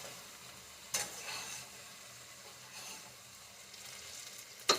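Onion and tomato fry together in a pan while being stirred, a quiet steady sizzle broken by a couple of brief spatula scrapes.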